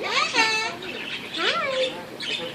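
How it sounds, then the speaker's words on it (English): A pet parrot gives several loud, close calls, rising and falling squawky whistles in short bursts with pauses between them. "I love this parrot."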